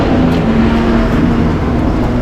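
Onboard engine drone from a BMW M race-series car on a circuit during the penultimate lap, a steady loud hum with a sustained tone and constant road and wind roar throughout, no talking.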